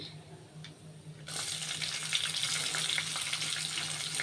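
A loud, steady sizzle of onions and ginger frying in hot oil after tempering begins abruptly after a quieter opening and carries on close by.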